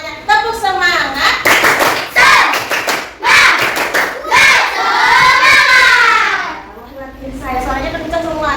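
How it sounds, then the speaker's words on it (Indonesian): Schoolchildren in a classroom chant loudly together with a sharp burst of rhythmic clapping in the middle, then the group voices continue. "Tepuk semangat."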